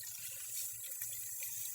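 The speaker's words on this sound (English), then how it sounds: "rinse out with cold water" Cold tap water runs in a steady, soft stream as hair is rinsed after conditioner, a faint continuous hiss with light splashing and no voices.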